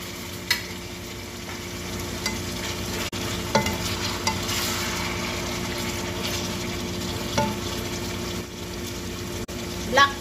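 Shrimp stir-frying in a pan for pancit bihon, a steady sizzle running throughout with occasional scrapes and clinks of the utensil against the pan, close and moderately loud.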